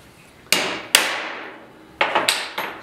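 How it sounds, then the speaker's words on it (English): Five light hammer taps on a part of a Delta 31-735 belt/disc sander during a belt tension modification, crisp and close with short ringing decays, two early taps followed by a quicker cluster of three. "Give a little tap first."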